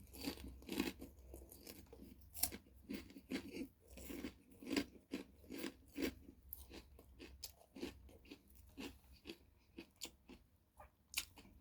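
Crispy chicharon pork rinds crunched and chewed up close, eaten with tuna kilawin, giving a steady run of sharp, irregular bites and crackles with no talking.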